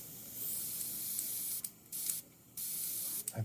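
An airbrush with a sticking trigger sprays paint onto the headlight of a yellow Mustang, giving a steady close hiss that cuts out briefly twice and resumes, ending with short sputters.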